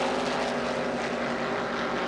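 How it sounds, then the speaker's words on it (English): A NASCAR stock car engine at the 1979 Daytona 500 drones steadily and rough in a dense, noisy roar, heard briefly and at a distance. "Waltrip is having apparently an engine that is beginning to sound anything but harmonious."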